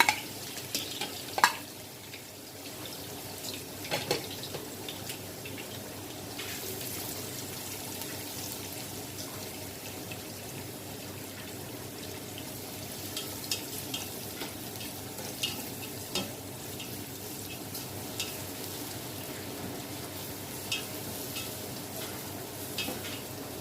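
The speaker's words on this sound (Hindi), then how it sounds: "मैंने अनियन डाल दिए, अभी ये ब्राउन हो जाएंगे।" Finely chopped onions fry in hot oil for biryani, giving a steady, close sizzle throughout with occasional sharp stirring clicks and scrapes. No talking is heard.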